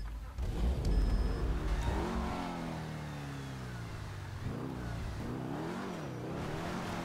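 A car being driven in GTA Online on PS4, its engine humming and shifting pitch as it accelerates and eases off, with a continuous steady drone throughout.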